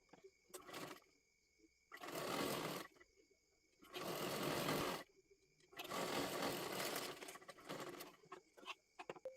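A sewing machine stitches the lining of a puffed sleeve in several separate bursts of rapid, steady whirring, each lasting a second or two and split by short quiet pauses with light handling clicks.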